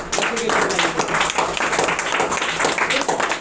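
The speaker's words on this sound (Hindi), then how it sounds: "हमारे साथ में जोरदार ताली बच्चों के" Audience applause for schoolchildren toppers at an honouring event, a steady, fairly loud burst of clapping from a crowd with some voices mixed in.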